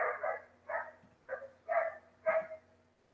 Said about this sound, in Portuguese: Tem um cachorro latindo aqui que tá danado